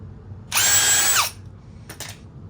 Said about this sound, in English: ream the holes again.